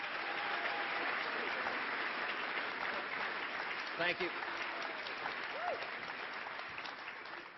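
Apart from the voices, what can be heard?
applause for someone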